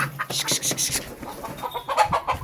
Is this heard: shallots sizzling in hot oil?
no